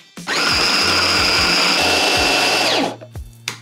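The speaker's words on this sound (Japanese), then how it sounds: "ローリエを取り除いてフードプロセッサーに入れてペーストにしていく。" A food processor purées a simmered mixture into paste, whirring loudly and steadily for a few seconds, a high motor whine over grinding, then winds down with a few clunks.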